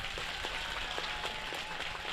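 Crowd applause at a political rally about K.P. Sharma Oli: a steady, moderately faint patter of many hands clapping together, with no voices over it.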